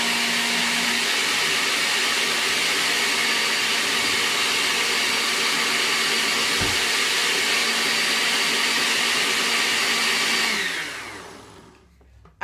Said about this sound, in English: you want to just turn it on for about a minute, till everything gets very well blended.